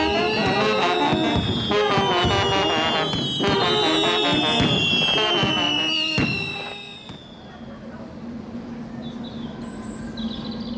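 Festival fireworks at night in Cuetzalan, Mexico, crackle and bang loudly in dense, rapid bursts with whistling rockets for about seven seconds, then give way to a quieter crowd murmur and faint distant pops.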